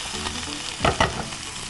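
Vegetables sauté in a pan for a Thai sizzler, giving a steady, close sizzle with two brief louder bursts of stirring near the end.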